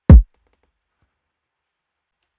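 A single short kick drum hit from a dancehall beat in Logic Pro X: one punchy, deep thump at the start, then silence.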